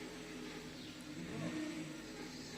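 A car engine hums steadily and revs slightly as the vehicle pulls away, a continuous mid-level drone with no talking.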